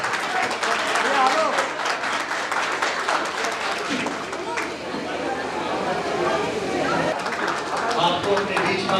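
Applause at an award ceremony honouring CTET results in Muzaffarpur, a steady wash of clapping from a crowd running throughout, mixed with chatter and voices over it.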